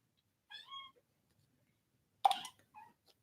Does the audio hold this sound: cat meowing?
yes